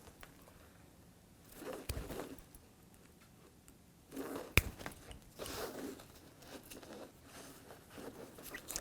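Plastic zipper teeth are pried off a zipper tape one by one, giving faint, sparse crunchy clicks and small snaps with quiet pauses between, close up with no talking.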